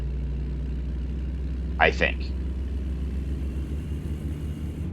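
A truck engine in American Truck Simulator hums as a steady, quiet low rumble throughout, under a man's brief speech.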